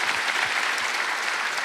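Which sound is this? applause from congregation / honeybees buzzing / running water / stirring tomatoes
applause from congregation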